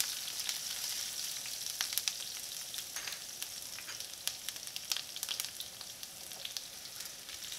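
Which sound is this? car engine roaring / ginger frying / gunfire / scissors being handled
ginger frying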